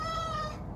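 A pet cat gives a single drawn-out meow, close and clear, lasting under a second before fading.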